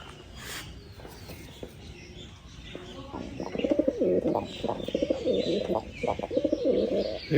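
Pigeons coo in a steady run of low, throaty calls, growing louder and more continuous toward the end, close by with faint shuffling.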